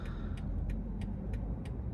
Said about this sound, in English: oh, there's a lot of traffic.